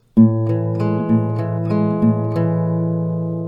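An acoustic guitar plays the A-chord section of a song, a steady fingerpicked pattern of about eight evenly spaced plucks over ringing chords, close and clear with no talking.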